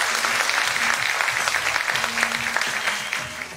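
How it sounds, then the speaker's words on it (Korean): An audience at the Mise-en-scène short film festival gives loud, sustained applause to welcome an actor. Dense clapping fills the clip, with faint voices murmuring underneath. "큰 박수로 맞아주십시오"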